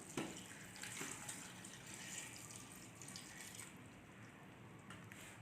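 Water from a glass poured into a pressure cooker holding chillies and other spices for chicken shami kabab, a steady close splashing pour running throughout with no talk.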